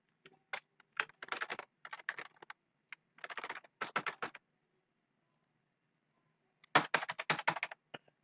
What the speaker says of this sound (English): Enter the same email ID.